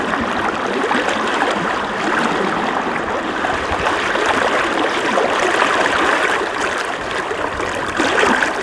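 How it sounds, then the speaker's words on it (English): A fast-flowing, knee-deep year-round creek on rural California land rushes loudly and continuously up close, a dense, steady roar of water with no voices. "This is a year-round creek."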